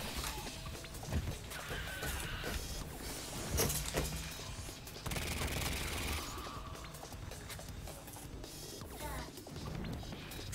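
Gunfire and impacts in the roguelike shooter Superior, a dense run of cracks, crashes and rapid bursts at close range, loud and continuous with brief louder spikes.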